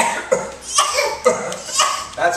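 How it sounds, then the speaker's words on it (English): A child gives a series of fake coughs, several short, staged bursts spaced across a couple of seconds, mixed with laughter and close voices. "That's fake cough."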